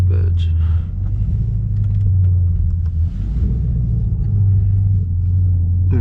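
Deep, steady rumble from a 500 hp BMW M550i sedan holding a loud low drone as it readies to launch, with no sharp rev spikes, heard close from inside the cabin.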